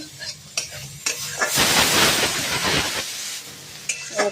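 Spiced masala paste sizzles as it is sautéed in a pan, a loud hissing, scraping surge rising in the middle and easing off, framed by quieter stirring clatters at either end.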